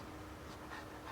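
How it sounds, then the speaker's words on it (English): Dogs panting in the background of the video game Genshin Impact, a faint, steady breathy rasp running low under ambient game noise for about a second. "You can hear the dogs in the background panting."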